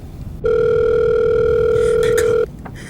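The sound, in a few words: telephone ringing on a 911 call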